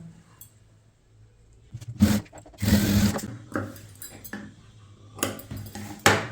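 Sewing machine stitching the shoulder seam of a chudithar top, heard in short bursts of close clattering stitching separated by pauses and handling noises.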